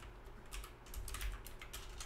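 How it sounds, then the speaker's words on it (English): Quiet keystrokes tap on a computer keyboard during a tabletop role-playing game session of Kids on Bikes, a short, faint scattering of clicks heard alone. "I'm typing."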